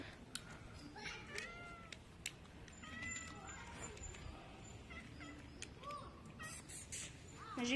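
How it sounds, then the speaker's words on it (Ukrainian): A cat meows a few times among rustling and household noise, with people talking nearby and birds calling in the background. "Что ты мявкаешь?"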